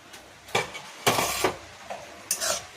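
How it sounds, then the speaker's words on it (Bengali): A metal lid lifted off a cooking pot of spiced greens raita, a few sharp clanks and scrapes in quick succession, close and fairly loud. "ঢাকনা খুলে আমি দেখছি যে মশলাটা সেদ্ধ হলো নাকি"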